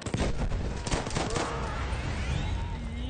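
Gunfire and a grenade blast in Battlefield 1 make a loud, dense burst of rapid shots and booms in the first second, then a rumbling, noisy battlefield tail that carries on to the end.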